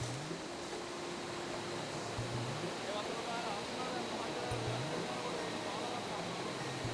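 A large stream of water rushes continuously near a temple at Minneriya, a broad steady roar of flowing water with a low hum in the background.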